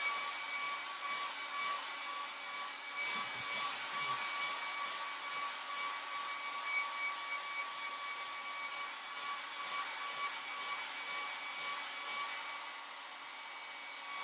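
A hair dryer blows steadily on a watercolour painting of Eilean Donan Castle, a continuous close whooshing drone with a faint steady whine running throughout, no talking over it.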